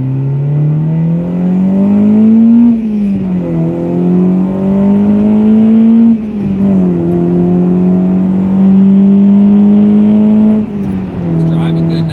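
A car's engine drones steadily while driving, its pitch rising and falling through gear changes over a loud, continuous interior hum, with occasional speech over it.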